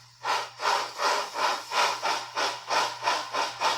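Bachmann On30 Shay model locomotive running under throttle, its sound unit giving a steady rhythmic chuff of about ten even exhaust beats over a faint constant hum, close and alone.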